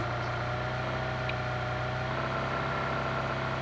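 A car engine in a multiplayer shooter video game: a steady, droning mid-pitched hum that holds at an even level throughout, with no talk over it.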